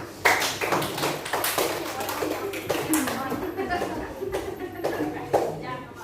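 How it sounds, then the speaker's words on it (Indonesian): Students in a school classroom clap their hands in a run of sharp, uneven claps close by, with a teacher's voice talking over them. "Ya, tepuk tangan."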